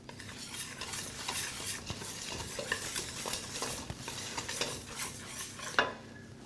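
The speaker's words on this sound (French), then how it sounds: "Mélangez bien vos poudres ensemble." Flour, salt and sugar are mixed together in a bowl for crêpe batter, a continuous close scraping and rustling with light rhythmic clinks of a utensil, ending in a sharper knock.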